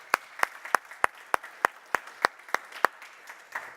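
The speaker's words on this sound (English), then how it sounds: "Because y'all had that applause." At a beverage industry event in New York City, the audience claps in a steady rhythm of sharp, evenly spaced claps standing out over lighter scattered applause, ending with a few softer claps.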